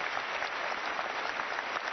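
A church congregation at a Paris worship service claps in unison, a thick, even patter of many hands sustained throughout, fairly distant and with no talking over it.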